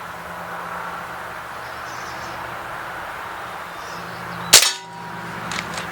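A single sharp report from a Crosman M4-177 multi-pump .177 pellet air rifle cracks out once, loud and close, over a quiet outdoor hum with faint insects.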